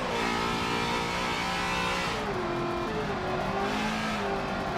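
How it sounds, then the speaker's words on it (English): A NASCAR race car in Forza Motorsport 7 at Watkins Glen drones loudly and continuously, its engine pitch dipping and stumbling briefly partway through before settling again; no talk. "It sounded like the engine had a hiccup."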